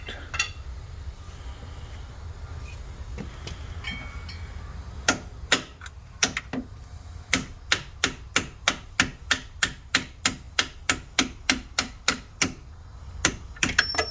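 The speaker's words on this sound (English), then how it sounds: "take a punch tool, put it on the back of the bolt and punch it out" A metal punch tool is hammered against the back of a strut bolt during a strut assembly replacement, a series of sharp, evenly spaced metallic strikes close by, preceded by quieter shop noise.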